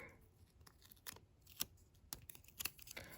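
Scissors snip through ornament paper in a handful of sharp, close cuts spread unevenly across the moment, with quiet handling rustle between them.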